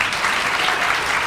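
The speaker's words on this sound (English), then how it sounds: "One more round of applause, please." A hall of fame ceremony audience claps steadily, a dense even round of applause that holds at full strength throughout.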